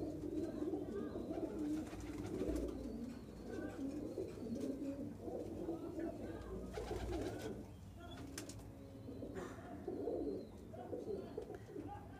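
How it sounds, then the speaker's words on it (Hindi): Madrasi pigeons in the male section of a loft coo steadily, a soft layered murmur of overlapping low calls from several birds nearby, with faint chirps and background rustling throughout. "अब मेल सेक्शन में एक बार कबूतर आप देख लीजिए"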